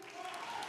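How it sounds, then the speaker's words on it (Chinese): An audience at a television drama cast press conference in Taiwan gives a brief round of applause. It is faint, steady clapping heard from a distance. "掌声鼓励。"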